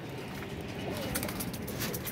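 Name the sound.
golden pigeons cooing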